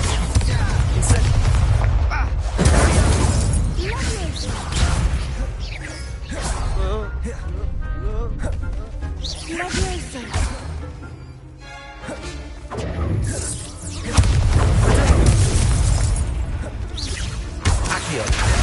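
Repeated Incendio fire spell casts in the video game Hogwarts Legacy, heavy booming whooshes and crashing impacts recurring over the stretch, loud and near, mixed with other spell effects and some talk.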